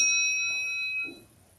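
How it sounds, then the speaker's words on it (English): A single meditation bell in a Zen Buddhist setting is struck once, giving a bright ringing tone that hangs and slowly fades. "when you hear the sound of the bell"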